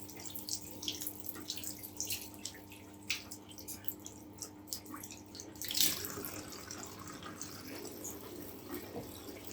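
Running tap water splashes steadily with small drips and knocks, then a louder gush as a natural-hair makeup brush is rinsed under the stream.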